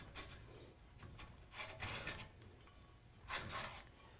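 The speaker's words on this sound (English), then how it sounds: "So now we're going to take our tips and slide those over our pipes." Aftermarket Gibson exhaust tips scrape and rasp as they are slid over the tailpipes of a 2017 Ford F-150. The sound is quiet and close, with a few short metallic rubbing bursts separated by pauses.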